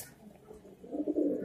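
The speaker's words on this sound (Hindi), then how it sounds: "ये नए कबूतर हैं।" Newly acquired pigeons cooing softly nearby, a low murmuring coo that swells toward the end of the short stretch.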